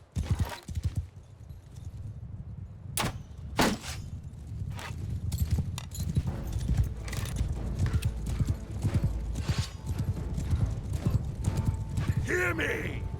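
Cavalry horses in the Mount & Blade: Bannerlord video game gallop with a dense, continuous clatter of hooves and occasional neighs, sharp impact sounds breaking through, while someone talks over the battle.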